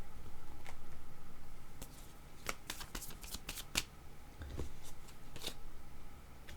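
A deck of tarot cards is shuffled for a reading, making a quick run of close, crisp riffling snaps and papery flicks in irregular bursts against a quiet background.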